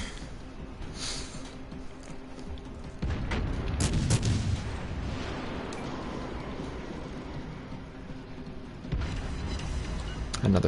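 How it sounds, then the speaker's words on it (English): Naval gun salvos from warships in World of Warships Legends, heard as heavy booming blasts with a sharp onset near the start of the stretch and again toward the end, layered over continuous rumbling engine and sea noise. "This next salvo should kill"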